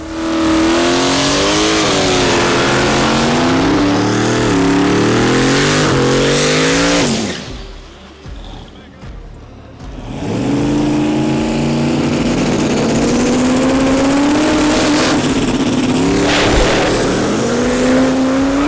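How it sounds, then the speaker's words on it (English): Two Mustangs launch in a Chicago street race, one running nitrous. Loud close engines scream through rising gears, then cut out into a brief lull before revving hard again and roaring off. "Next race is Mikey V in the Mustang versus Tim, addicted to N2O, in the blue Mustang."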